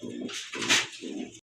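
A colorful pair of pigeons coos up close in three low, rolling pulses, each a soft throaty burr, over about a second and a half.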